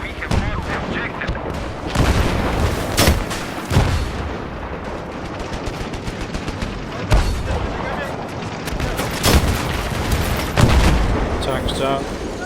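Battlefield 3 tank battle with heavy, booming cannon fire, gunshots and explosions coming in repeated loud blasts over a dense, rumbling background of combat noise.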